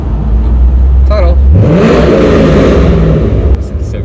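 A car with a rattly modified exhaust on BC Racing coilovers, driving through a tunnel, its engine revving up loud and close and then settling into a steady droning cruise.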